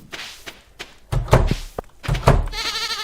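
Goats in the Stardew Valley farming game bleat several times in quick succession, loud and close, with soft thuds between the calls and no talking.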